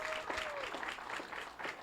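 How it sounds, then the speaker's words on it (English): Wedding guests clap at a reception at Fiesta in New Jersey, a very quiet, distant patter of applause with a brief whistle-like tone near the start. "Give her a round of applause."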